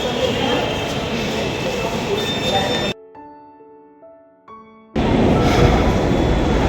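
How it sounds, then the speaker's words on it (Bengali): A metro train pulls into a station platform with a loud rumbling roar, then a stretch of quieter tonal hum and chimes before the heavy rolling noise returns. "চলো আমাদের মেট্রোতে ট্রেন চলে আসলো শিয়ালদার ট্রেন এই তো মেট্রো ঢুকছে"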